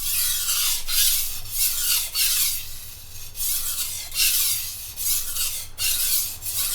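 A chef's knife tip is ground freehand on a coarse sharpening stone in steady, rhythmic rasping strokes, about eight back-and-forth passes of gritty scraping, close and clear with no talking.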